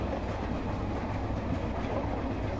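A train in India rumbles steadily with a continuous rolling, rattling clatter, loud and close, with no voices over it.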